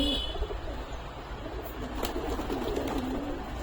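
Adult Kaldama Giribaz pigeons in a home loft coo in low, rolling murmurs over a constant noisy hum, with a faint click partway through and nobody talking.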